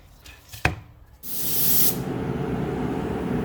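A click sounds, then an aerosol rattle can sprays car parts with base coat in a loud, steady hiss that swells and then holds close to the microphone.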